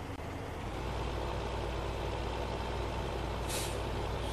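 A farm vehicle drives in Landwirtschaftssimulator 15 (Farming Simulator 15) on a German map of the Celle region, a steady low engine drone throughout, broken by one short sharp air-brake hiss near the end.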